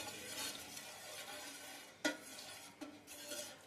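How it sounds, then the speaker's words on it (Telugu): Milk with custard powder stirred in a pot for custard fruit salad, a soft scraping swirl against a low hiss, with one sharp utensil knock midway and a fainter clink after it, no talk. "పాలు ఇలా ఒక పొంగు వచ్చిన తర్వాత అడుగంటకుండా కలుపుతూనే ఉండాలి."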